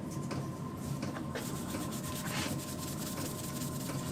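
Abrasive pad roughly equivalent to 600 grit scuffing wheel paint down to matte, a continuous close gritty rubbing with quick back-and-forth strokes and no talk.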